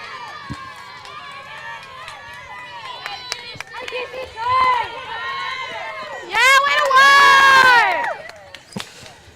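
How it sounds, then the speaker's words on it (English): Kids in the gold dugout of the opposing team at a softball game shout and cheer for a batter, bursts of high excited voices rising and falling, loudest in a swelling cheer near the end. "Even the kids in the on the other team here in the gold dugout cheering her on"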